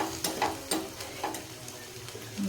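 Aloo snacks shallow-frying in a little oil with a steady soft sizzle, broken by several scraping stirs of a spatula against the pan.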